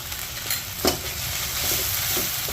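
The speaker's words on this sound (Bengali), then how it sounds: "আদা রসুনটা পেঁয়াজের সাথে কিছুক্ষণ কষিয়ে নিব" Ginger garlic paste frying with onions and tomato in a pan for a Bengali ayer fish curry, a loud steady sizzle broken by a sharp stirring scrape near the middle, no voices.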